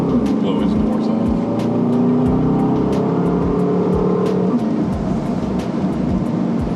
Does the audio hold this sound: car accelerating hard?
yes